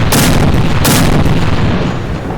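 Autocannon in the VR game Wartype Inhyeong Type 03 fires two heavy, booming shots in quick succession, each a loud close blast running into a dense rumbling tail.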